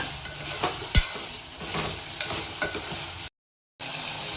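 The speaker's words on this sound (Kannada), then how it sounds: "ಇವಷ್ಟು ಚಿಕನ್ ಪೀಸ್ ಹಾಕ್ತೇನೆ ನೋಡ್ರಿ" Chicken pieces sizzle and crackle in a hot pan for chicken sukka, with a few sharp clanks of a stirring spoon and a steady frying hiss, briefly cut to silence near the end.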